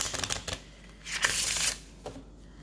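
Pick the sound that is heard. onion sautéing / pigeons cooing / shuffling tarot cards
shuffling tarot cards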